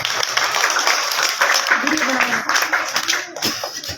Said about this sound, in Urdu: افضال صاحب واسطے تالیاں ہو جاتی